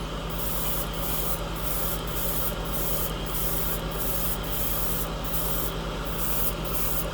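Close, steady hiss of an airbrush spraying thinned Mission Model acrylic scale-model paint in deep blue, continuous with faint periodic bursts as the trigger modulates airflow.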